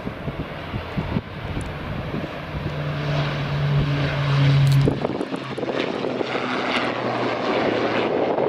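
An Eastern Airways propeller airliner departs Aberdeen Dyce Airport, its engine drone steady and loud with a rising tone before fading, over wind noise on the microphone.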